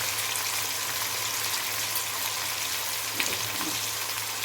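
Fish curry with salt, chili and turmeric fries in a pan, giving a soft, steady sizzle and faint bubbling with a low hum beneath and no voices.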